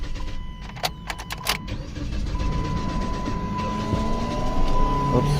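A 2009 Dodge Caliber with a 2.0L engine cranking during a battery and alternator check, a continuous mechanical churning whir that grows steadily louder, with a few sharp clicks at the start.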